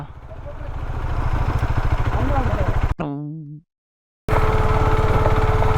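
A KTM Duke 250 motorcycle engine runs with a steady low throbbing pulse. A voice briefly breaks in, a short silence follows, and then the engine rumble returns just as loud.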